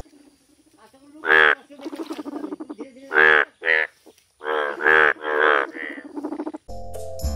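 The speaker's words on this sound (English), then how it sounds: "F for frog." Frog croaks in a children's alphabet song, a string of loud, rhythmic, buzzy calls in short bursts with pauses between, ending in a brief musical sting.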